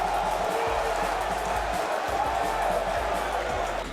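A large crowd cheers and roars at a 2013 table tennis tournament after a tense seven-game match. The noise is loud, dense and continuous, lasting the full four seconds without a break.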